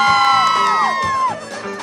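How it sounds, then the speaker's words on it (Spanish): A group of girls at a wedding reception in Cusco, Peru, scream together on cue, a loud, high chorus of wavering, falling shrieks that fills the room, with crowd noise underneath. "Chicas, un grito, por favor"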